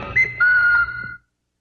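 A person whistles in a film, two short clear notes, the second held steadily for nearly half a second, close and loud before cutting to silence.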